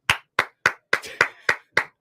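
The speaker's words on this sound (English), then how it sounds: "Wow, what an applause." Seven sharp, evenly spaced handclaps, close and loud, greet a podcast co-host at a bowling center on a talk show about bowling, with no voices over them.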